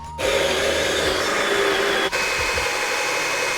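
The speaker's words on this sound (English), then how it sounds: "And grind my beans up." An electric coffee grinder grinds light-roast coffee beans in a steady, loud whir that starts abruptly and runs continuously with only a brief dip, close up and with no talking.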